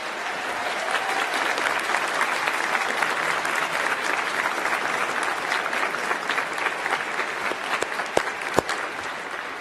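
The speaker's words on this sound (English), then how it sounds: "applause for these people." An audience applauds students at a county high school choir concert, with sustained, dense clapping from a large crowd filling a hall at an even level, with a few sharper claps near the end.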